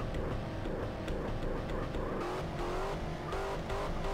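A car engine in a video game roleplay drives hard, revving loudly and continuously, with tire squeal and skidding mixed into the steady roar.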